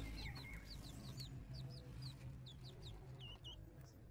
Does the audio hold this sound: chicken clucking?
yes